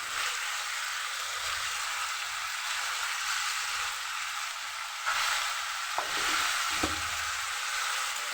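Beans and large-cut potato pieces frying in a pan give a steady, loud sizzle throughout, with a few brief scraping stirs near the end and no talking.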